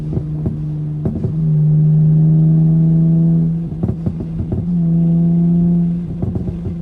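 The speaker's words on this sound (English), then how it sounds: "these burbles are crazy in fourth gear" A tuned Dodge Charger SXT driven on a back road in fourth gear: a steady droning exhaust note, broken up by bursts of crackling, popping burbles, close and loud.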